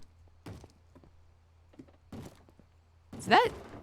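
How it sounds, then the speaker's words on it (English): Several dull, spaced thumps of knocking on a door in a block-building game world, ending in a louder, busier burst with a brief voice-like sound. "Sounds like someone's knocking on our door."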